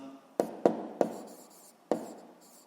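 Pen strokes on paper during a seventh-grade physics lesson: four sharp, close scratching taps spaced across a few seconds, each fading into a soft scrape, with no talking.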